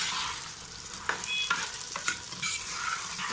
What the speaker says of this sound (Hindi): अब इसमें टमाटर डालूँगी, हरी मिर्चें और टमाटर।